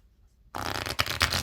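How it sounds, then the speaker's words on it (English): A unicorn tarot deck is riffle shuffled: after a near-silent moment, the cards burst into a loud, close, fluttering ripple with a couple of sharper snaps as they interleave. "riffle shuffle it,"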